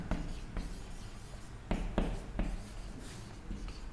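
Pen or chalk writing during an agronomy lecture gives quiet scratching strokes and a few sharp taps, spaced irregularly and close by, with no talking over them.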